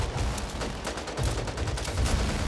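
Rapid, continuous minigun fire in Back 4 Blood, a dense churning roar of shots that stays loud and unbroken throughout.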